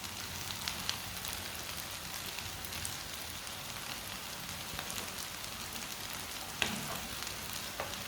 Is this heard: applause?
no